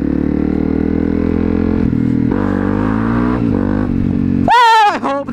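A motorcycle engine runs loud and steady during a winter wheelie stunt, then a sharp rising rev sweeps up near the end, with brief voices in the background.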